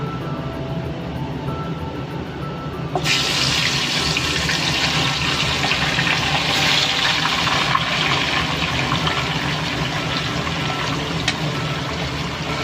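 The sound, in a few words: water tap running while washing a bowl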